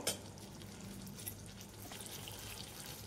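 Fig chutney fries in a pan with a soft, continuous sizzle and light bubbling, quiet and close, steady throughout with no talking.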